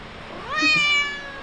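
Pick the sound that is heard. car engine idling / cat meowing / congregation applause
cat meowing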